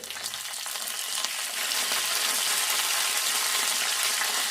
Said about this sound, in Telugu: తాలింపు ఇట్లా వేగినాక కరివేపాకు వేసుకోవాలి.